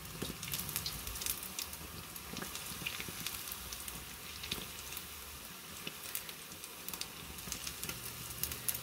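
Pizza fritta dough frying in hot oil, a steady close crackling sizzle with dense spitting pops and bubbling throughout.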